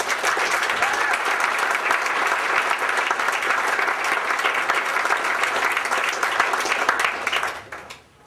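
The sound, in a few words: applause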